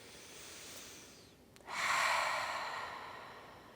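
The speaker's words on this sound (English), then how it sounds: "Take a deep breath." One person takes a slow deep breath during a relaxed neck exercise: a soft inhale, a short pause, then a longer, louder airy exhale close to the listener that fades out gradually.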